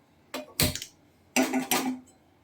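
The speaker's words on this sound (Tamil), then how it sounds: "இப்போ அடுப்பை பற்ற வச்சு வானல் வச்சுக்கிறேன்" Pan set down on a stove as it is lit, with a few sharp metallic clanks and scrapes in two brief clusters, close and fairly loud.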